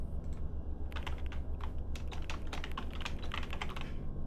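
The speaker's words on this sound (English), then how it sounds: "I was about to start typing it right now" Rapid, steady keystrokes clatter on a computer keyboard close by, a dense run of clicks over a constant low hum with no talk.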